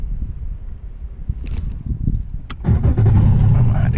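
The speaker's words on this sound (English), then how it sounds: "Crank us up, put us in gear." A boat motor cranks and catches, its low engine rumble settling in as it is put in gear near a riverbank, following a few soft knocks and handling sounds.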